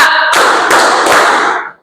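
A classroom of students claps their hands together on cue, a loud, close burst of clapping in three quick waves before it fades out.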